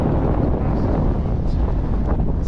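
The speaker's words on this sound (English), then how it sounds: "I was hoping we wouldn't get blasted by the wind on the other side" Strong, steady wind roars and buffets the microphone high on a mountain in the Crestone group, a continuous loud rumble with no pauses and no talk.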